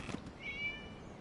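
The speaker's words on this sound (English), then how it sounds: "It was just a cat." A cat meowing in the video game Genshin Impact, a single short, faint mew heard against quiet background.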